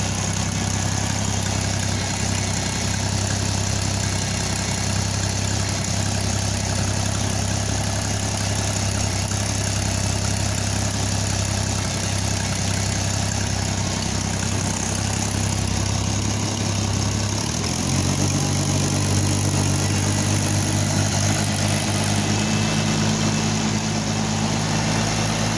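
An Oliver 880 tractor engine idles steadily after a cold start, a continuous low rumbling drone that shifts pitch slightly partway through, with no talk.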